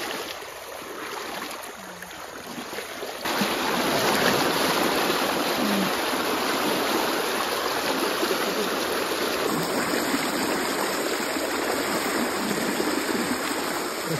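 A river in the Konkan region rushes steadily at night, a continuous broadband wash of flowing water that swells slightly louder after the first few seconds and carries on unbroken.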